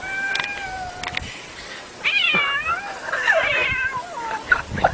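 Cat meowing repeatedly near a horse, a series of clear close meows and drawn-out wails, some overlapping, with short gaps between calls and no talk.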